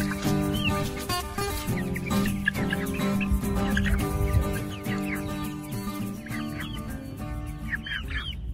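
Backyard chickens cluck and murmur continuously at close range, with overlapping calls from several birds and a steady background hum, with no talking.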